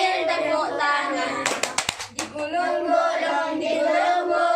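Primary school children in a fifth-grade class clap their hands in a quick burst of several sharp claps while singing a class song, with a teacher's voice and children's singing around the clapping.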